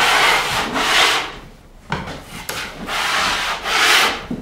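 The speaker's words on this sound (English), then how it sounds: "Before I apply the compound to the seams, I fill the depressions over the screw heads that fasten in the center of the panels." A trowel scrapes joint compound into drywall screw depressions across the middle of plasterboard panels, in four broad, rough swipes, close and fairly loud, with short pauses and a small tap between strokes.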